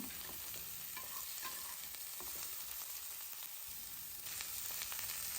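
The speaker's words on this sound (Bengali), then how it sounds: "মূলো আলু ভেজে নেবার পর ওই তেলেই দিয়ে দিচ্ছি শিম আর বেগুন" Broad beans and eggplant fry in oil in a karahi, a steady close sizzle with occasional stirring clinks and scrapes, quiet overall and swelling a little near the end, with no speech.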